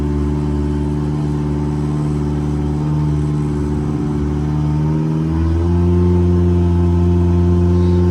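Yamaha 70 outboard engine running steadily with a low droning tone, then rising in pitch and loudness as it revs above idle, continuous and close.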